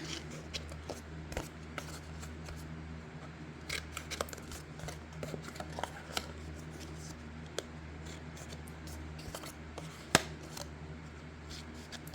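Excess paper is trimmed off a flag book with scissors, producing faint, close snips and small rustles over a low steady hum.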